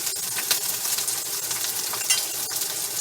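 Celery hitting a hot pan and stir-frying, a loud, steady sizzle and crackle with occasional clinks and scrapes of utensils against the pan.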